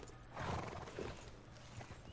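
Horse hooves clip-clop in Red Dead Redemption 2 while the animal whinnies, a faint, steady trotting rhythm with no talking.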